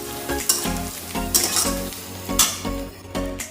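Leafy greens, including lafa greens, cooking in a wok: loud crackling sizzle broken by repeated rhythmic stirring scrapes and clanks of a utensil against the metal, close up and with no talking.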